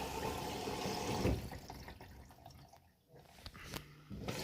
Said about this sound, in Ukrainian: Пішов набір води.